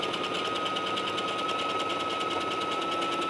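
Sewing machine running steadily along a 5/8 inch seam on knit fabric, a fast, even mechanical whir with a rapid stitching rhythm and a thin high whine, close and continuous.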